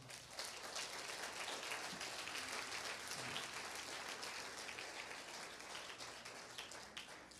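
Church congregation applauding during a sermon, a faint, even wash of many hands clapping continuously with no voices over it.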